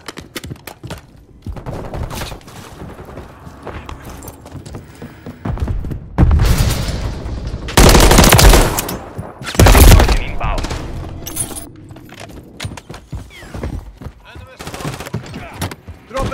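Gunfire from Call of Duty Modern Warfare 3 rattles in loud, repeated bursts and heavy booms, with the densest volleys in the middle and quieter scattered shots around them, while voices speak between the shots.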